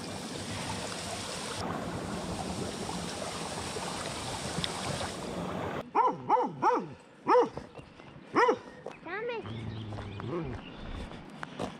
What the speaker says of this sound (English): We've got two dogs chained up here.